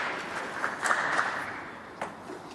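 A snooker crowd at the Northern Ireland Open applauds a century break, a steady wash of indoor clapping with a few louder claps standing out, no talking over it.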